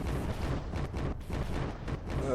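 A rapid-fire tank cannon in Garry's Mod sounds as a quick string of heavy booming shots, about a dozen in under three seconds, at a moderate level and close, with no voices.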